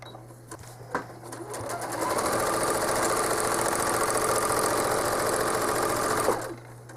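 Home sewing machine stitching quilted feathers on a small cherry quilt, a steady fast rhythmic whir running for several seconds with a clunk at the start and easing off at the end, close and loud.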